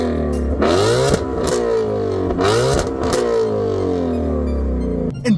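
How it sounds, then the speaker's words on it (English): Loud, close active exhaust of a Shelby GT350 revving in repeated bursts, rising and falling in pitch three times, with a deep rumble between revs and no talking. "We can't just go past the exhaust and not take another listen to how good this sounds."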